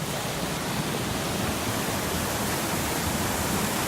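Water tumbles into a deep pool beneath a cove waterfall, a constant broad roar of splashing spray heard close up. The sound stays even and unbroken throughout, with no voices.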